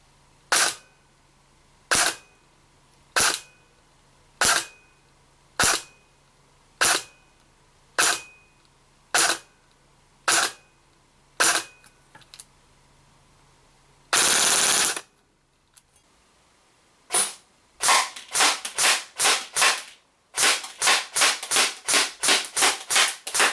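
A DYTAC B15 Helix Ultralight Carbine airsoft AEG running an 11.1 LiPo fires 0.2 gram BBs: a slow string of sharp single shots at a steady pace, then a short full-auto burst, then rapid clustered shots.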